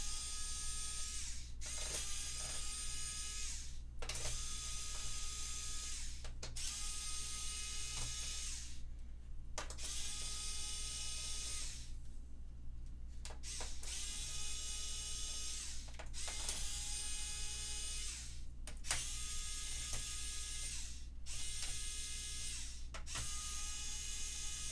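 A drill backs screws out of a PlayStation 5 console that is being repaired for a no-power fault, giving repeated whirring, ratcheting bursts every couple of seconds with short pauses, steady and close by.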